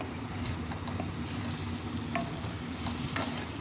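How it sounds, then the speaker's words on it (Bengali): Keema chana masala is stirred in a hot pan, giving a steady oily sizzle with occasional light scrapes and clicks of the spoon, close and continuous with no talking. "এখন আবার একটু নাড়াচাড়া করে নিচ্ছি, নিয়ে এটাকে বেশ ভালো করে মিশিয়ে নিচ্ছি।"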